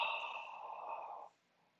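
One long, full exhale pushed out through the mouth during a yoga breathing sequence, a steady breathy rush lasting just over a second before cutting off into near silence.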